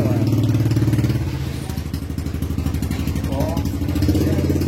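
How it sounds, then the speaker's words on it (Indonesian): A motorcycle engine putters nearby at a roadside satay stall, a rapid chugging beat that fades slightly and swells again, with people talking over it. "tar dulu ada motor"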